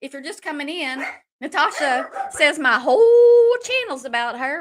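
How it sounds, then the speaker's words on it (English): Dogs bark and yip loudly and repeatedly indoors at a delivery, the barking overlapping and interrupting a person who keeps talking throughout. "excuse the dogs. I think I might have just got a delivery."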